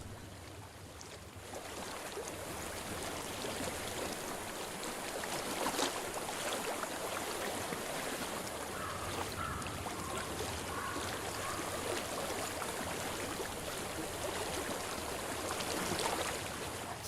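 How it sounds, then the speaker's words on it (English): Flowing stream water in the video game Hellblade: Senua's Sacrifice, a steady broadband rush of running water with a faint breezy hiss, continuous and moderately close throughout, with no voices. "I hear water. Go to it."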